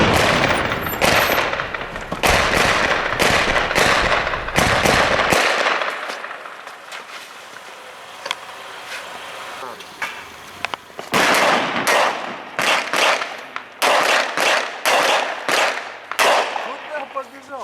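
Rapid bursts of loud gunfire crack in clusters in Grozny, with a quieter stretch between volleys and faint voices in the background.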